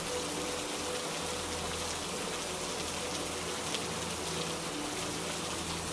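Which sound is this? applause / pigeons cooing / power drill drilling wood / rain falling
rain falling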